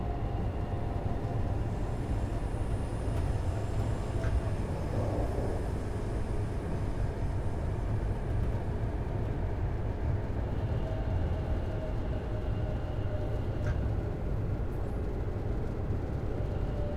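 A train runs in the video game Train Sim World 5 on the East Coast Main Line, giving a steady low rumble and drone that continues unbroken throughout with no talk.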